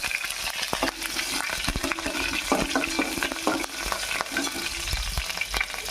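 Mustard seeds, cumin, chana dal and curry leaves frying in hot oil give a steady, dense sizzle with sharp crackles and pops throughout, close and loud, with occasional stirring clinks.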